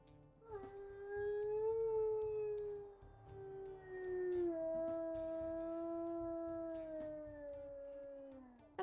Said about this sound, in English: Let's also listen to his howls here,